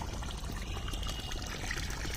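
Water pours out in a steady, dense stream with a constant splashing rush that stays at the same level throughout, heard close with no other sounds.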